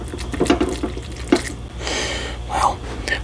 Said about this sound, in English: Then I'm gonna go wash my hands.